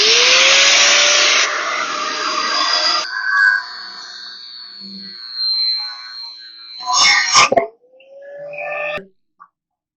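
A power tool cuts a welded piece off the bottom rail of a trailer under construction. A loud, high whine runs for about three seconds, then comes back in shorter bursts with brief pauses.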